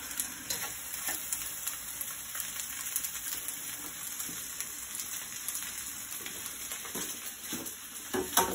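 Kedgeree being stirred in a frying pan, a continuous soft sizzle with scraping and stirring strokes throughout, close up and fairly quiet, with no voices.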